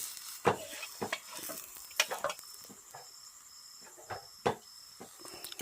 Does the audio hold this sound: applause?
no